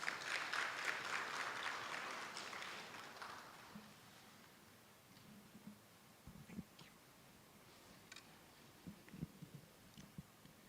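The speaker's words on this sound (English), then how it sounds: "Shall we welcome him with a round of applause?" An audience at a Ghana International Bank business meeting gives a round of applause that fills the first four seconds, loud and dense, then fades into quiet room noise with scattered soft knocks and shuffles.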